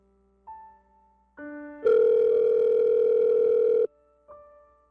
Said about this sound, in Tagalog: sagutin mo na yung tawag ko